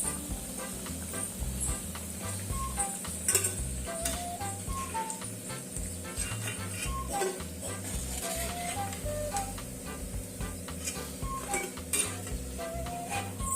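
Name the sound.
bhakarwadi frying in a pan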